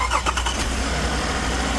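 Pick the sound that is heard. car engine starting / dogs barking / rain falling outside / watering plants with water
car engine starting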